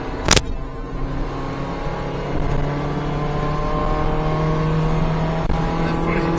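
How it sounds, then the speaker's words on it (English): A Daihatsu Atrai mini-truck with a small intercooled turbo three-cylinder engine drives steadily, its low, even drone holding throughout with a brief knock near the start; speech may be faintly present underneath. "does sound like a three-cylinder, no? Could be a 1000cc three-cylinder."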